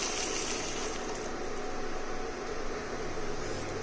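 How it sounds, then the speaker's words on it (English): Hot water poured into a pan of matar usal with blanched green peas and cooked paste, a steady gushing pour heard close and continuous for a few seconds without speech. "And add in 1 cup of hot water."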